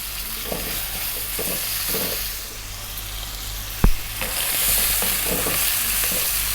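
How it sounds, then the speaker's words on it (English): Pasta sauce is stirred continuously in a hot pan, a steady close sizzle with rhythmic scraping strokes and one sharp clack of the utensil against the pan partway through. "2 minutes, stirring all the time."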